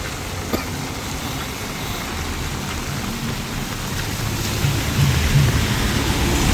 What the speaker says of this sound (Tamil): வெள்ளத்தை பாருங்க ஸ்டான்லி ரோட் வெள்ளம் எப்படி ஓடுதுன்னு பாருங்க